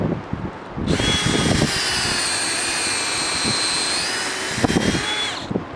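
A power drill with a 1.5-inch-marked bit whines loudly and steadily for about five seconds, grinding as it bores at a slight upward angle into a maple tree for tapping, with some clunks before and after.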